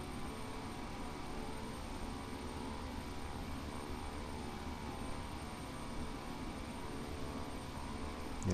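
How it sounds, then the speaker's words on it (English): An Airbus airliner in Flight Simulator X comes in to land, heard as a steady, loud, broadband jet engine roar that holds constant throughout with no voices. "And there's an Airbus coming in."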